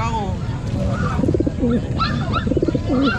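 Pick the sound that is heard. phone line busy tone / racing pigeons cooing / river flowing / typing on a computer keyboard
racing pigeons cooing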